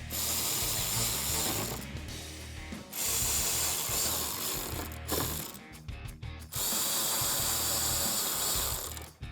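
A 10mm socket wrench ratchets bolts at the top of the front bumper on a 2005-2009 Ford Mustang GT, rapid close clicking in three long bursts with brief pauses between.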